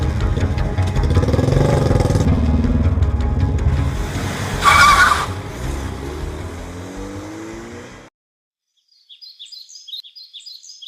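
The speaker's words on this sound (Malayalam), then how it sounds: "വേഗം വണ്ടി എടുക്കടാ." A car engine runs loud and close, then the tires skid with a sharp squeal as it drives off and fades out, leaving quiet with faint bird chirps.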